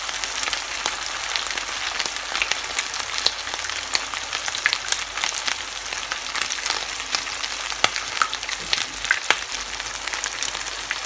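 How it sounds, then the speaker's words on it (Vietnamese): Salmon fries in a generous amount of oil in a pan, giving a steady, dense sizzle and crackle with scattered pops, close and continuous throughout. "thì bắt đầu mình cho cá vào. Mình cho dầu nhiều một chút nhé."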